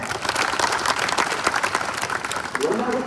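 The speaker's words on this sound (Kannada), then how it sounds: "ಒಂದು ಜೋರ ಚಪ್ಪಾಳೆ" A crowd at a protest gathering claps together in steady, fairly loud applause, with voices mixed in beneath the clapping.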